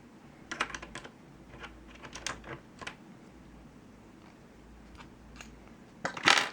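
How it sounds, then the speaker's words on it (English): Typing on a Pictek TKL gaming keyboard with clicky Cherry MX blue switches, close sharp clicks in uneven bursts with short pauses, ending in a louder flurry of keystrokes. "it's a blue switch right there. So it has the more clicky sound"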